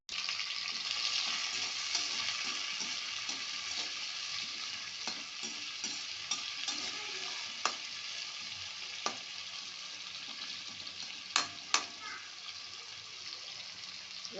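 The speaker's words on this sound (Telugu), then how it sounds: "ఇప్పుడు తాలింపు పెట్టుకోవాలి. ఉల్లిపాయ, టమాటా, పచ్చిమిరకాయలండి" Onion, tomato and green chilies sizzle in a hot tempering for macaroni, a steady close frying hiss broken by a few sharp clinks from stirring.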